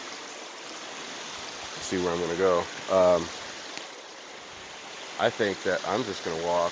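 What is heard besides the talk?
flowing creek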